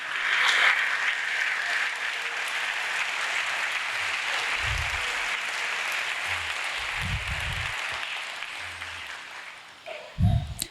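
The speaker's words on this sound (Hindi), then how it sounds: "और तालियां जोरदार" A congregation bursts into loud, sustained applause during a church sermon, a dense wash of clapping lasting about ten seconds with a few dull thumps underneath, tapering off at the end.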